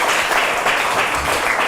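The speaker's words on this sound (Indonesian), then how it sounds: "Jadi tepuk tangan untuk Susila, benar ya?" An audience claps at an event, a dense, steady patter of hands that carries on for the whole stretch, with no voices rising above it.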